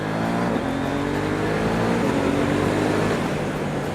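A KTM Duke 790 motorcycle accelerates up a small hill, its engine revving and shifting through gears quickly via the quickshifter, loud and continuous with no talk.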